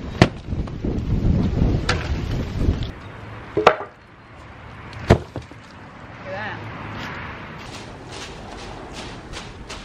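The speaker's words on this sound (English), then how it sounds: "It's nice having a fire." A wood fire burns in an outdoor burn pit of fire bricks, giving sharp scattered pops and cracks over a low rumble, with people chatting nearby.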